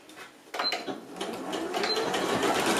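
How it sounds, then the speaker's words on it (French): Sewing machine stitching the far side of a fabric beach tote bag, a steady continuous mechanical whirr starting abruptly after a quiet moment and running close and loud to the end, with no talk. "on va aller coudre ben, l'autre côté"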